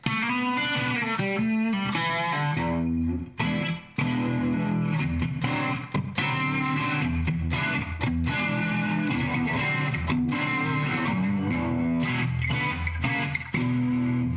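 Overdriven electric guitar through a Dumble amp model with a warm, crunchy amp tone plays bluesy chords and licks continuously, loud and close with little pause, with no effects.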